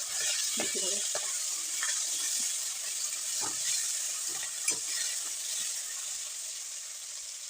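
Magur catfish frying in hot oil as it is turned over, a steady loud sizzle with scattered scraping and clinks of the spatula.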